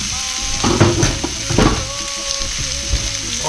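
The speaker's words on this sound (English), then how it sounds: "Now we're going to cook up our chorizo till it's nice and brown with the onions there." Chorizo and onions frying in a pan, with a steady crackling sizzle and occasional stirring scrapes throughout, close and fairly loud.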